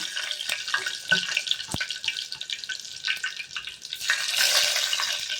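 Fenugreek and then mustard seeds frying in heated oil for a tempering, a steady crackling sizzle with scattered pops and a brief louder burst near the end, heard alone without talk.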